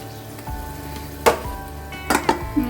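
Hot oil sizzles steadily in a pan while biryani is being cooked, with sharper crackles bursting in near the middle and end as more ingredients go in.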